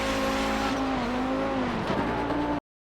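An Audi 90 GTO race car lapping Road Atlanta, its engine droning loud and steady from inside with a tonal whine that dips and rises as revs shift, then cutting off abruptly.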